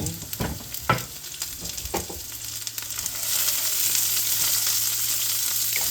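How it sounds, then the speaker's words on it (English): Diced onions and potatoes frying in a skillet, several sharp scraping stirs at first, then a steady close sizzle that grows fuller and louder. "I'm gonna add the onions now because the potatoes are now showing signs of the Maillard reaction."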